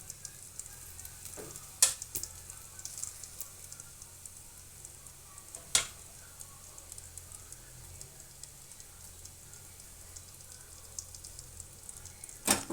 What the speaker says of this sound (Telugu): సిమ్లో పెట్టుకొని అటు సైడ్ కూడా కాల్చుకోవాలండి